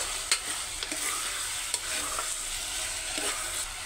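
Field beans being stirred and fried in a pan of capsicum pulao give a quiet, steady sizzle broken by a series of sharp spoon scrapes and clicks.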